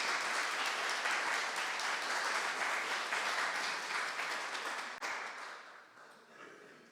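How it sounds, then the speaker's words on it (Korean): A church congregation at a Sunday service claps steadily and warmly for several seconds in welcome before the applause tapers off and fades out. "우리 환영의 박수 한 번 더 하겠습니다"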